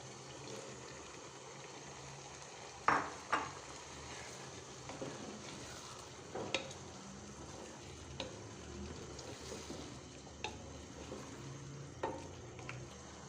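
Carrots and peas cook in a pan, giving a faint, low sizzle with a few sharper scrapes and knocks as they are stirred at irregular intervals, and no talking.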